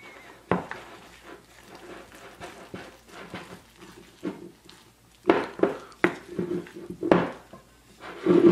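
A spoon stirs whole wheat flour and water for a sourdough starter in a bowl, giving soft, irregular scraping and knocking taps that grow sharper toward the end, close and alone without speech.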